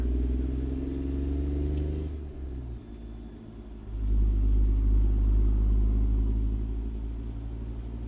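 Big-rig truck engine in American Truck Simulator, revving up after a shift into gear: a deep, loud droning rumble that dips briefly, then surges back stronger and holds steady, close, with no talk.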